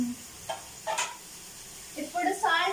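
Onions and tomatoes sizzling in a pan while being stirred, with quiet frying hiss and a few scraping stir strokes, brief bursts growing busier toward the end; no talk.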